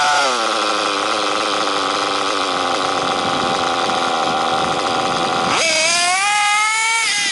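A nitro-powered RC car engine screams at high revs with a steady, loud buzzing whine, then the pitch jumps abruptly higher as the throttle opens near the end, all close up.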